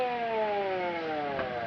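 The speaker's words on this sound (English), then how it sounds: "The ambulances are here." An ambulance siren sounds for a moment in a 1944 film-noir soundtrack, a steady wailing tone with the pitch slowly gliding downward as it arrives, moderately quiet and with no voices.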